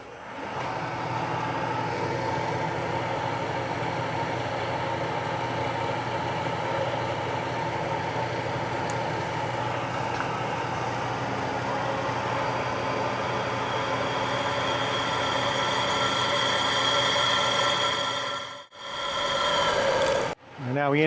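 A machine quill-feed drills holes in a Bosch fuel injection pump, giving a steady, loud mechanical whir with a constant tonal hum that runs for most of the span, then briefly cuts out and restarts near the end.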